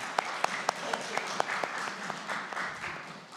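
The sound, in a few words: applause in church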